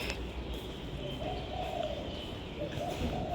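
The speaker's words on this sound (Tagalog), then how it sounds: "Nagkukukuk yung kalapati." A pigeon coos in soft, low, rolling phrases that repeat under a busy, noisy outdoor background, faint and somewhat distant.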